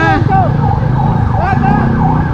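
A wailing fire truck siren sounds loud and close during a street clearing operation, with its pitch rising and falling continuously over heavy traffic rumble and a brief voice at the start.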